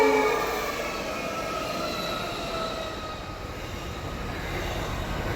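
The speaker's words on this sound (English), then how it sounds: "So here's the train in the loop, and here he comes storming past." Pacific National freight train at a passing loop near Monarto, South Australia, storming past with a steady loud rumble of wheels and wagons, faint high squeal tones over it, filling the whole stretch with no voices.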